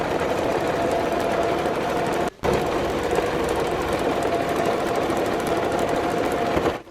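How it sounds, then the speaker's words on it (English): Close and loud, a sewing machine stitches a straight line along a curtain with a steady rapid clatter and hum, cut by one brief pause partway through before running on unbroken to the end. "I'm modifying this by sewing this line down"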